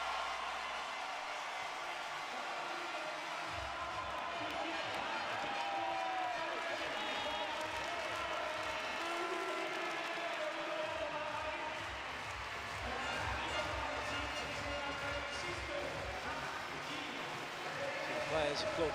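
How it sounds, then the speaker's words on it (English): Handball fans in an arena at a European championship match between Macedonia and Austria applaud and cheer, giving a steady wash of crowd noise and clapping throughout while a commentator talks over it. "the fans applaud the players"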